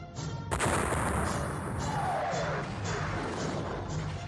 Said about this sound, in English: soften them up with yet another barrage